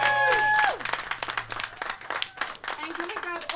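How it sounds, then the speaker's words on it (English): Audience at a seventies-themed charity pageant applauds the contestants, sparse uneven clapping and some cheering that follows a held musical tone, with a voice speaking over part of it. "can we give one more round of applause for these lovely ladies today?"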